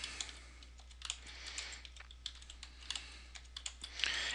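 Rapid typing on a computer keyboard entering a username and password, a steady run of close, crisp key clicks with a few louder strokes and no talking.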